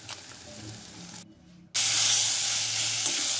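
Garlic paste with turmeric, red chilli powder and chat masala fries in a pan for a jackfruit recipe, giving a steady close sizzle that drops out briefly, then bursts back as a loud, bright hiss, with no talking.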